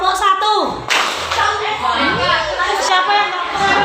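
Children in a classroom clap their hands in brief bursts while a teacher and children talk loudly throughout.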